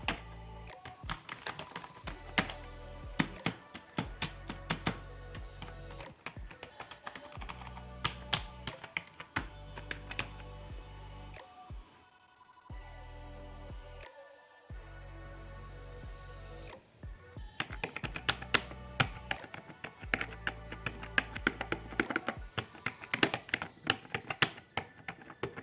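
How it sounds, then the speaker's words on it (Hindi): Keys clatter on a Redgear MT02 RGB gaming keyboard in fast, uneven typing runs with short pauses, each press a crisp tap close up and no voices. "ये कीबोर्ड टाइपिंग के लिए बढ़िया है और ये मैकेनिकल कीबोर्ड की तरह साउंड करता है"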